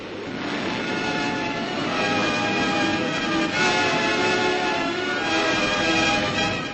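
An American warplane lands on an aircraft carrier deck and bursts into flames, a loud continuous roar of engine and rushing fire filling the whole stretch with no break, and no voices.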